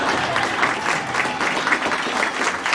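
A school crowd gives sustained applause with cheering at an elementary school celebration honoring a teacher, steady and loud throughout.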